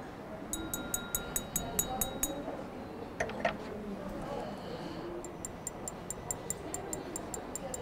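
A clear IKEA Storsint wine glass, 220 ml, is tapped repeatedly with fingernails, giving quick rows of soft, muted clinks against a low background hum, with a brief clunk in between.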